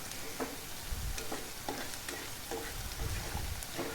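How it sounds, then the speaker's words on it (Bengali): Onions sizzle in a pan as the base for a mutton curry with potatoes, a steady crackling fry with occasional stirring and scraping sounds close by, no voices. "পেঁয়াজ ভাজতে শুরু করে দিয়েছি"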